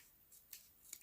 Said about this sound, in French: Je suis obligée de couper là.